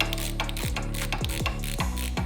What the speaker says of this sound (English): You're gonna take your 9/16 wrench, just sit it on the back there while we tighten things down.